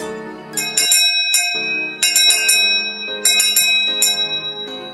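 Church bells ring out for Easter, a loud bright peal of several bells striking in clustered rhythmic bursts with lingering ringing tones between strikes.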